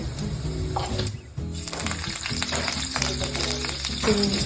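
Cumin seeds hit hot oil for a Mangalorean chicken curry and crackle into a continuous close sizzle, with a low hum and faint clatter beneath.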